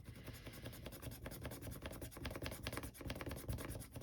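A paper budget sheet has a square scratched off, giving quick, close scraping strokes that repeat in short uneven bursts for a few seconds, quiet and dry.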